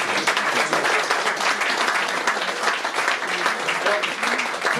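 Sustained audience applause fills the hall at the close of a conference-debate, a dense, steady wash of many hands clapping at even loudness throughout with no break.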